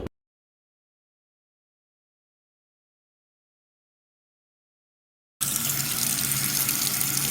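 Water from a household tap gushes in suddenly after a long silence, a loud, steady splashing rush that continues to the end.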